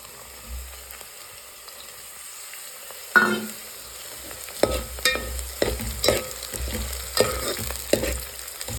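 Garlic dropped into hot oil in a pan for village-style eggplant olo, a sudden burst of sizzling followed by steady frying with repeated spoon stirring and scraping knocks.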